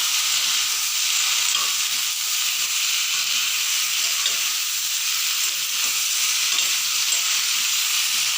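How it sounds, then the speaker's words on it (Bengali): Vegetables with spices fry loudly in a pan with a continuous close sizzle and hiss. Faint scraping from stirring runs underneath, and no one speaks. "বেশ ভালোভাবে ভাজা ভাজা হয়েছে সবজিটা"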